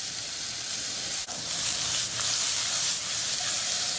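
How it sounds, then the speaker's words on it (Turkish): Sliced mushrooms sizzle steadily in a hot pan while being stirred, a continuous bright frying hiss with one brief scrape of the utensil partway through. "Şöyle mantarı bir karıştırıyoruz."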